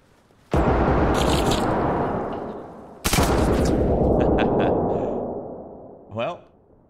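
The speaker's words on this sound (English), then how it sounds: "nice shots by that guy" Two loud, sudden bursts of gunfire from the video game Arma Reforger, each decaying over a couple of seconds, followed by a short fainter sound.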